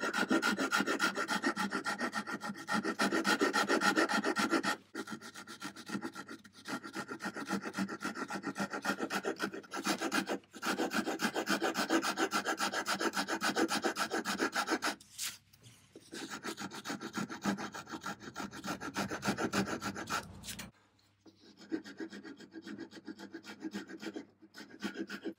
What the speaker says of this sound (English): So start this with this finer rasp and just bring it a little bit